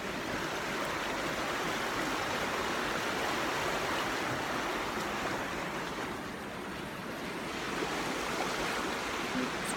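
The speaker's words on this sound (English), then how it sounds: "This is the river." A mountain river in the Allgäu flows steadily, its broad, constant rush of water filling the scene without pause and with no voices.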